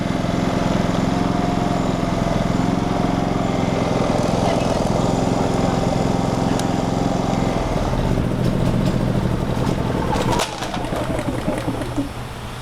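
A Generac GP3300i inverter generator with a fault that keeps it from shutting off runs its engine in a loud, steady drone. The drone drops in level abruptly near the end but keeps going.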